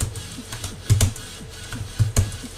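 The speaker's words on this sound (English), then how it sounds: "I kind of want my keyboard to be heard." Computer keyboard keys clack in quick irregular bursts during a live game stream, a few heavier strokes standing out near the end, moderately close with no talking.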